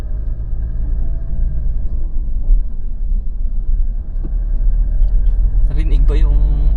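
A Mitsubishi Montero Sport engine holds around 2,000 RPM during a night drive in Baguio City, a steady low rumble close up inside the cabin, with a voice joining near the end.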